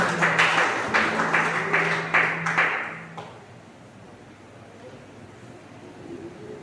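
A church congregation gives loud, enthusiastic applause to welcome missionary Paula, clapping hard for about three seconds before it breaks off into quiet room tone.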